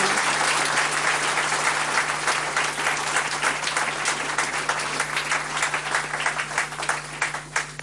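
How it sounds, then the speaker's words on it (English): A conference audience at a business talk in Cape Town gives sustained applause, dense clapping from many hands filling the room for several seconds before thinning slightly at the end. "A round of applause,"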